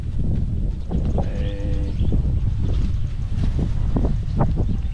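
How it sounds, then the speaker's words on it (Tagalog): Gusty wind roars and buffets against the microphone, with a faint animal bleat and scattered background sounds beneath it. "Lakas ang hangin dito."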